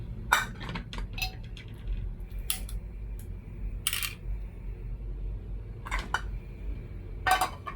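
A frying pan and dishes clank and clink in a home kitchen, with scattered sharp metallic knocks and a few louder clatters spread across the stretch, close and with no one talking.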